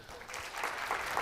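Audience applause at the close of an academic conference talk on a pointer-ownership model for C, a steady wash of many hands clapping at moderate level with no voices over it.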